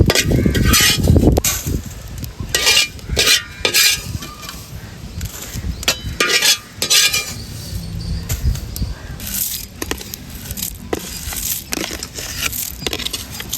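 Shrimp shells frying and being stirred in a kadai give off loud, close scraping and rustling with crisp crackles in irregular bursts, continuing throughout, with occasional voice in the background.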